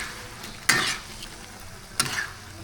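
Galunggong fish being stirred in sauce in a pan, soft background sizzle broken by two brief scraping strokes of a utensil, close by and without talk.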